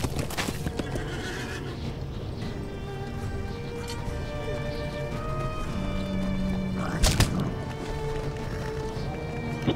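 A horse whinnies amid the steady clatter of hooves in a video game raid in Western Gondor, with a busy ambient background and a louder burst partway through.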